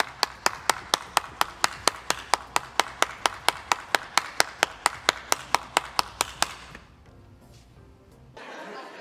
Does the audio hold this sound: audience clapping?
yes